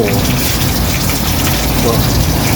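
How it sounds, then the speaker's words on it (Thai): Water gushes loudly and steadily through a homemade sink drain pipe built from recycled plastic bottles, a dense continuous rush heard close up. "เดี๋ยวผมเปิดน้ำให้ดูนะครับ นี่เลยครับ เปิดน้ำแล้ว"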